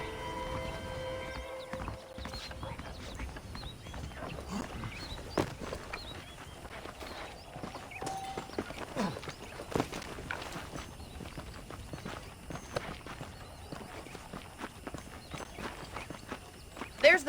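A horse being ridden in Red Dead Redemption gives a soft, rhythmic clip-clop of hooves that stays quiet and steady throughout, with voices talking over it.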